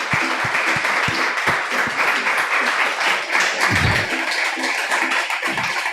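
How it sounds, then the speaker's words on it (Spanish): Sustained audience applause fills a science and consciousness talk hall, dense steady clapping from many hands, loud and continuous for the whole stretch with a few murmurs underneath. "Quiero que les demos un fuerte aplauso porque se lo merece"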